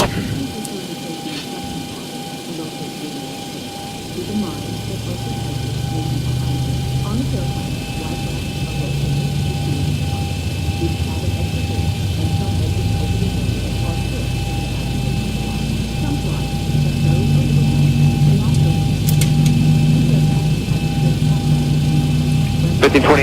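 A Boeing 737's number two engine spools up in a flight simulator, a steady whine and low rumble rising gradually over a constant cockpit hum, with tonal whines layered on top and a voice speaking occasionally.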